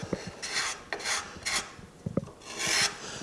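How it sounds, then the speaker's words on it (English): Sandpaper rasps back and forth across carved wood in short, close strokes, a dry scratchy rubbing repeated several times with brief pauses between passes. "Just a little sandpaper."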